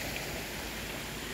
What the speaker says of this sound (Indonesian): Kita tengok hujan lebat.